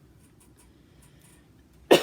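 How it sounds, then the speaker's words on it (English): A single sharp cough bursts out near the end after near-silence, close and loud, with a few faint clicks before it. "sorry, I know that coughing is annoying"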